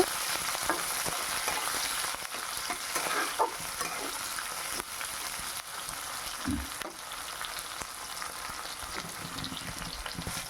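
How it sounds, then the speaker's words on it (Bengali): Chopped tomatoes frying in a pan during a vegetarian papaya recipe, a soft steady sizzle with intermittent stirring scrapes, moderately quiet and without talk. "কেটে রাখা কুচি করা টমেটোগুলো আমি এখানে দিয়ে দিলাম টমেটোটাকেও একটু ভাজা ভাজা হিসেবে করে নেব"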